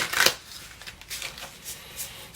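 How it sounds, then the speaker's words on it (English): A deck of tarot cards being shuffled, with a sharp riffle burst at the start followed by several lighter, softer shuffling rustles, close and alone without talk. "One more shuffle here."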